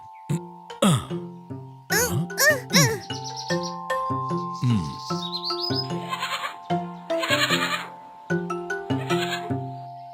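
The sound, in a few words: lamb bleating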